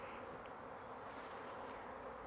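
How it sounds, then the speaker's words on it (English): Honeybees hum in a dense, steady buzz around an open hive being inspected, a close, continuous drone with no voices. "Just moving the bees off there now."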